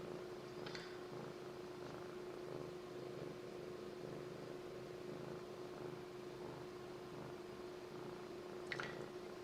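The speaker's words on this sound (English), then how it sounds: "I don't know if you can hear her purring right now" A female cat purrs close by, a steady, low continuous rumble throughout with a faint room hum and a couple of brief scratchy noises.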